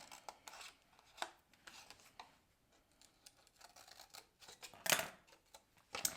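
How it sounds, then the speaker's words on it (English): Scissors snip a small triangle out of card stock for a 3D cross Easter card, giving a few quiet, close cuts and paper rustles with a sharper snap near the end. "let's just cut out a little triangle on the inside, just like that"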